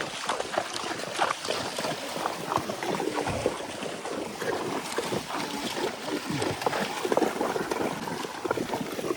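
A horse wades through clear water, its steps making irregular splashes and swishes close by, with some wind noise in the background.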